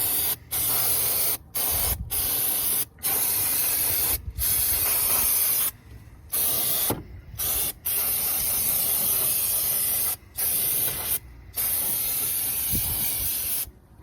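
Brake parts cleaner sprays from an aerosol can inside an abandoned 1977 El Camino, a loud, close, steady hiss in long bursts broken by short pauses, about a dozen sprays in a row.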